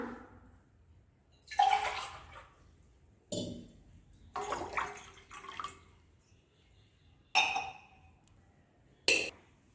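Water is poured into a pan to make sugar syrup, a few separate splashing pours and trickles with brief pauses between them, close and fairly quiet, with no talking.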